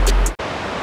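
Steady broadband rush of water from Shannon Falls waterfall in Squamish, British Columbia, a continuous roar that briefly cuts out for a moment before resuming at the same level.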